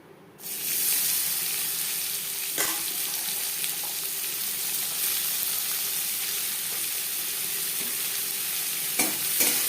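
Three chopped onions drop into hot mustard oil in a wok used for frying potatoes, setting off a sudden, loud, steady sizzle that continues with occasional stirring clinks.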